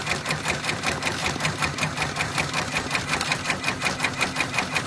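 An embroidery machine stitches a flamingo design onto a sun hat, a fast, even mechanical clatter of rapid needle strokes repeating steadily at close range without pause.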